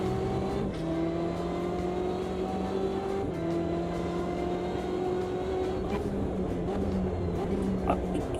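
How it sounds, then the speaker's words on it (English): A BMW race car in a racing video game holds a steady, fairly monotonous engine drone with small shifts in pitch as it revs, playing alone without talk. "does this BMW just sound a little bit monotonous with its engine sound?"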